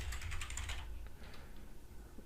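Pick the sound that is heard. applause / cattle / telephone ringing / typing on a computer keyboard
typing on a computer keyboard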